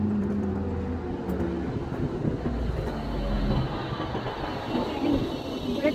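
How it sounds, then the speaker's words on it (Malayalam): A tram pulls into a stop with a low, steady rolling rumble and mechanical hum, moderately close, over light background noise. "ഇവിടെ ട്രാമ വന്നു."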